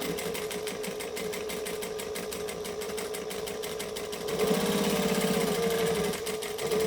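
Sewing machine top stitching fabric, a close, steady motor drone with fast rhythmic needle chatter that speeds up briefly near the end, running alone without talk.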